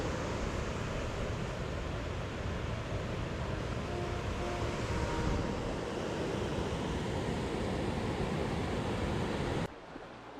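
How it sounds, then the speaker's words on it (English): Rushing creek water at Silver Falls State Park, Oregon, heard up close as a loud, steady broadband roar that holds constant before dropping off abruptly near the end, with no voices. "I took a short use trail to view the rushing creek up close."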